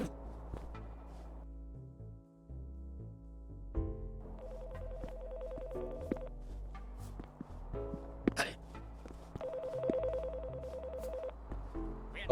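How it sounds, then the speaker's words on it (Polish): A telephone ringing inside a priest simulator video game, a synthetic repeating electronic ring tone in bursts over soft game music and clicks, fairly quiet. "Odbierz telefonik."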